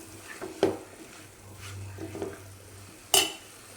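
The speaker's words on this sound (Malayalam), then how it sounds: "അരച്ചിട്ട അരപ്പ് നമുക്കിനി ഇളക്കി കൊടുക്കാം ഇളക്കി യോജിപ്പിക്കാം" Cooked spinach with ground coconut paste being stirred in a pan, giving a few soft scraping strokes and one sharper clink of the spoon near the end, over a low steady background hum.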